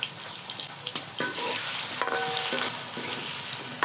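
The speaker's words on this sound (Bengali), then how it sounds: "তেল গরম হয়ে গেছে, এখন আলুগুলো দিয়ে দিব" Potatoes frying in hot oil with a steady loud sizzle, broken by a few scraping stirs of a spoon in the pan, close up and without talk.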